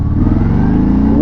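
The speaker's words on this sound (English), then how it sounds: "I'm gonna pull out, and I'm gonna just roll on the throttle and see what she puts out." A Harley-Davidson Sport Glide motorcycle engine pulls hard under rising throttle, a loud, close, steady low rumble with a thick growl holding through the whole short stretch.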